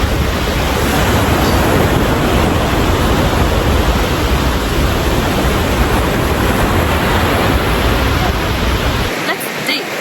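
Steady broadband roar of surf breaking on a foggy beach, loud and continuous like a constant wash of waves, with wind buffeting the microphone; the low rumble drops away abruptly near the end.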